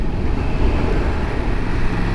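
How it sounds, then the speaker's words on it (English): A big truck towing another truck rumbles past, a steady low roar heard over wind and engine noise from a 2022 Yamaha MT-10 motorcycle on a road ride. "Oh, big truck dragging another truck."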